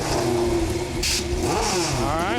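Drag racing car spinning its wheels on launch, a loud, steady mid-pitched engine roar with a rising and wavering whine as the tires break loose, close and continuous.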